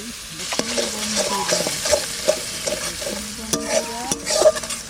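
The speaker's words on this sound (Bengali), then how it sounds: "এবার এই তেলের মধ্যেই আমি দিচ্ছি সবার প্রথমে পেঁয়াজ বাটা, লঙ্কা বাটাটাও দিয়ে দিচ্ছি" Onion paste and chili paste sizzling and frying in hot oil, village-style, for a prawn dish, with a spoon stirring through the mix and scraping the pan in bursts over steady crackle.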